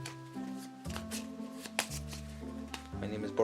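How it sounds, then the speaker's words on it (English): A deck of playing cards is shuffled by hand during a tabletop game session, with several quick riffling and rustling bursts under steady background music and occasional talk. "let me just quickly shuffle these"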